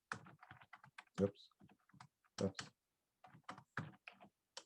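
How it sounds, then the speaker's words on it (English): Someone types on a computer keyboard in bursts of quick, close clicks with short gaps between them. Someone says a word in between. "You see how good I am at typing."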